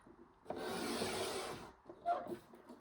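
A sheet of 12x12 craft paper is trimmed down to 10.5 inches on a paper cutter, a soft, close scraping slide lasting about a second, followed by a few fainter rubbing and clicking sounds.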